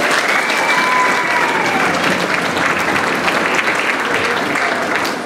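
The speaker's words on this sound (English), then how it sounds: "A round of applause for them." An audience at a school orchestra concert applauds steadily, a full wash of clapping with a couple of faint whistles near the start, holding level before tapering at the close.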